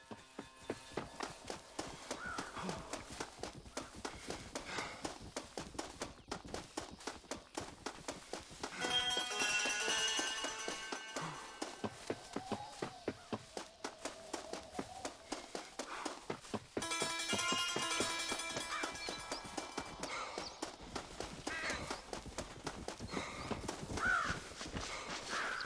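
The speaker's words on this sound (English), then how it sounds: "I just heard a horse." Horse hooves in the video game Red Dead Redemption drum in a steady, quick rhythm through the whole stretch, moderately loud, with two louder swells of rushing noise partway through and occasional bird caws in the background.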